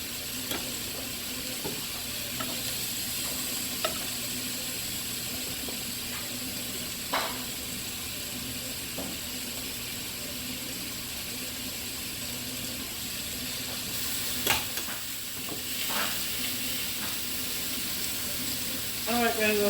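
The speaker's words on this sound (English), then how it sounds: "Saute my vegetables, yes." Vegetables sauté in olive oil with a steady low sizzle, marked by occasional utensil clicks and stirring scrapes, fairly quiet and continuous, with faint running water nearby.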